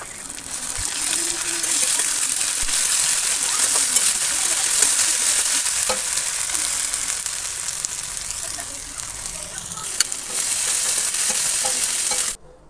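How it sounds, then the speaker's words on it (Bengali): Onion and ginger-garlic spice paste fry in mustard oil for a fish jhal chorchori, a steady close sizzle running throughout with frequent stirring scrapes and an occasional clink, then cutting off abruptly at the end. "তো মশলাটা ভালো করে আমি কষছি তেলের উপরে"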